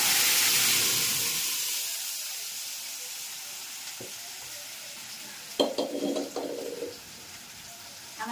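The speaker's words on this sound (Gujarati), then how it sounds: "અને મગનો વઘાર." Moong is tempered in hot oil with mustard seeds, cumin and fenugreek powder; a loud burst of sizzling hiss opens, fades to a low steady crackle, then a short clatter of stirring against the pot follows near the end.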